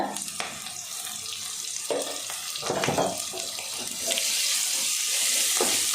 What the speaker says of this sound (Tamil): அது வெங்காயம் நல்லா வதங்கட்டும்